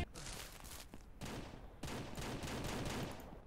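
Gunfire in the farming game Ranch Simulator comes as dense, rapid shots in several bursts, fairly faint overall with little talk.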